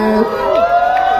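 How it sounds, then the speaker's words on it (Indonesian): A crowd at a film press conference for Badut Gendong cheers and whoops loudly and close, with raised voices rising and falling over a short burst and no clear clapping. "Tepuk tangan dong sekali lagi untuk Iska Kifano"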